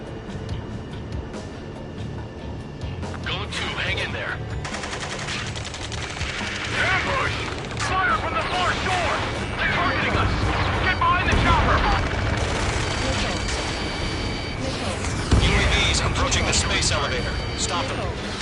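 Game gunfire and explosions from the air-combat title Ace Combat 7 rattle in dense, continuous bursts with heavier booms, mixed with radio-style voices shouting combat calls over the din.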